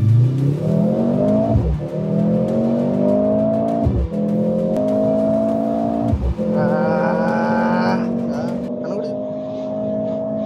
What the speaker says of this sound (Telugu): Just acceleration నొక్కబోతున్నా.